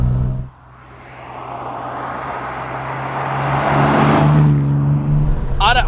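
A classic Aston Martin DB6 drives past, its engine note building from a low hum to a louder, rising roar as it nears, then fading with a brief squeal at the end.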